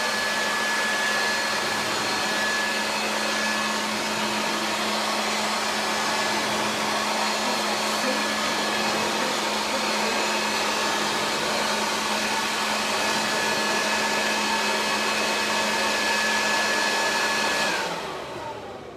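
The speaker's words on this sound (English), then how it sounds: "If you have an even stronger leaf blower, you can actually do it to make that work." A loud, steady motorized blower roars continuously at close range with a constant whine, then winds down at the end.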